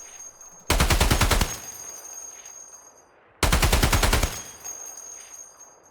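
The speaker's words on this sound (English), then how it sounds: "I made my way down to the HMG on the rocks, taking some pot shots at a random scav" A heavy machine gun positioned on rocks in Escape From Tarkov fires two loud, sustained bursts of rapid shots, each lasting about a second, separated by a short quiet gap.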